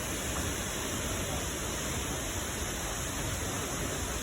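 Misol-Ha waterfall in Palenque, heard as a steady, dense roar of falling water that stays even and unbroken throughout, with no voices over it.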